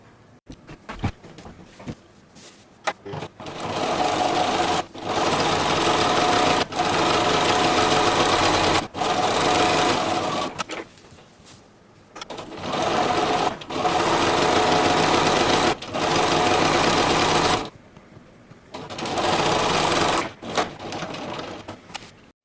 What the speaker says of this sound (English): I'm going to sew straight up along each side